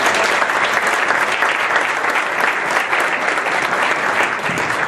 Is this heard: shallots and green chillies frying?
no